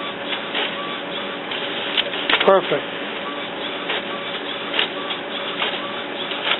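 An Epson Expression Premium inkjet printer runs steadily through a print job, its mechanism whirring with a brief louder clack partway through, while a voice speaks briefly nearby.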